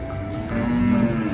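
A cow unloaded from a truck gives a deep, drawn-out moo that swells louder midway. A fainter moo may come from another animal. No one speaks.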